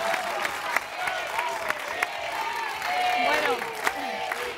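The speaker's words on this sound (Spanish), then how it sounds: "ahí tienen el aplauso" A studio crowd at a festive TV show claps and cheers with scattered whoops, dense and lively, while a presenter's voice cuts in briefly over the noise.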